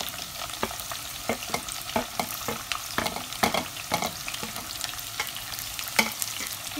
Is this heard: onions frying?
yes